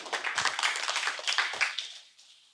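Audience clapping for a speaker at a women's poetry event, a short burst of applause that thins and fades out within a couple of seconds.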